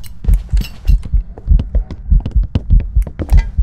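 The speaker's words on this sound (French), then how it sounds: "Maintenant, je vais allumer ma lampe et écoute les bruits de pas." Ghost footsteps in the horror video game Phasmophobia, a steady series of dull, thudding steps at a walking pace, fairly close and loud, with no talk.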